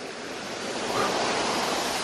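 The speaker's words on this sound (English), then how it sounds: "I can hear the creek anyway." A creek near a resort flows and splashes down a hillside toward a waterfall, heard as a steady broadband rush of water that swells slightly partway through, with no voices.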